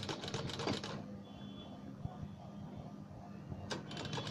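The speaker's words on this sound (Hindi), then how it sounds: "इसको इस तरीके से सिलाई लगाते हैं" A sewing machine stitches a blouse neckline reinforced with buckram, opening and closing with bursts of fast rattling needle strokes, separated by a quieter stretch with faint handling noises.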